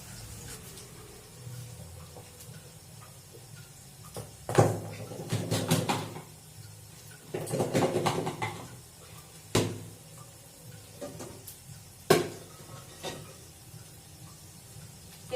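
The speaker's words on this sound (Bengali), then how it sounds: "তাকে আমি এই দিকের এই চা খাওয়া কাপ এইগুলো সব ধুয়ে নিই" Tea cups being washed in a small home kitchen make scattered clinks, knocks and bursts of rattling ceramic, with a few sharp taps standing out over a quiet background.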